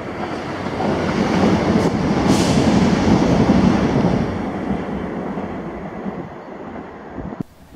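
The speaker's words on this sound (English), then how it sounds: "Then this is 1T99, the 1611 ScotRail service to Glasgow Queen Street from Inverness." A ScotRail passenger train bound from Inverness to Glasgow Queen Street rolls past Blair Atholl station, a loud, steady rumble of wheels and carriages holding for several seconds before easing off and ending abruptly.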